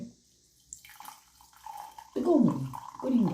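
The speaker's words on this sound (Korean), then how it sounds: "물을 이렇게 붓겠습니다" Hot water poured into a cup holding balloon-flower syrup, starting as faint trickles and swelling into a fuller, gurgling pour in the last second and a half.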